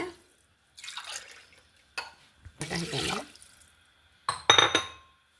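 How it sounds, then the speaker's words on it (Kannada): Water is poured from a glass onto washed rice in a pressure cooker in a home kitchen: a few short, close splashing pours separated by quiet pauses. "ಒಂದು ಲೋಟ ಎರಡು ಲೋಟ ನೀರು ಹಾಕೊಂಬ"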